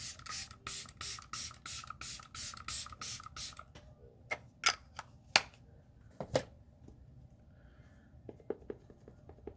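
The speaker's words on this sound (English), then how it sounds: "I used 2 setting sprays yesterday." Makeup setting spray misted from a bottle in several quick hissing bursts in a row, followed by a few sharp clicks and taps, all close and fairly quiet.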